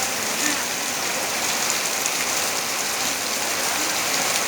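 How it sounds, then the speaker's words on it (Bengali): Heavy rain falls steadily over Bagharpara, a dense unbroken hiss of drops drumming on surfaces, loud and even throughout with no voices. "প্রচুর পরিমাণে 1 ঘন্টা যাবৎ বৃষ্টি হচ্ছে আমাদের এখানে বাঘারপাড়াতে"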